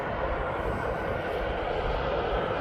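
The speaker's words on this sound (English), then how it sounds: "this aircraft is now approaching, is now off down to Tenerife" A Jet2.com airliner approaches East Midlands Airport with a steady, broadband engine roar that stays loud and even for the whole stretch, with no break or change in pitch.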